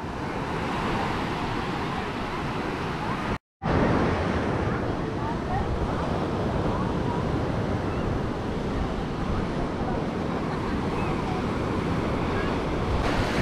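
Waves rolling onto Polhena beach in Sri Lanka at sunset, a steady broadband wash of surf mixed with wind buffeting the microphone, briefly cut out near the start before resuming at constant loudness.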